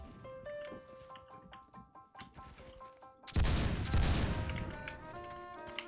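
Deagle XIX pistol fire in the online shooter Phantom Forces, a burst of heavy gunfire and explosive noise breaking in midway over steady game sounds and tones, loud and close.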